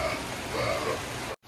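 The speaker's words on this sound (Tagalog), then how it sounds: "Kaya lang umulan." Dense, steady hiss of rain falling on a surface, constant and close, ending in a sudden cut.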